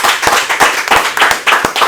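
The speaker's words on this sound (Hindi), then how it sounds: "सामने बैठे हैं, आप तालियां बजाएं।" Hasya Kavi Sammelan audience clapping in a close, brisk burst, many hands striking in a quick uneven rhythm that stays loud and fairly even throughout.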